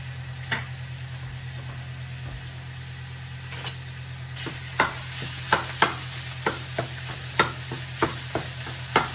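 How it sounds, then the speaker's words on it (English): Sausage being broken into crumbles while it sautés in a pan over medium heat: a steady background sizzle with sharp spatula scrapes and taps that grow more frequent toward the end. "Now I'm sauteing the sausage, making it up. I'm gonna make it into crumbles"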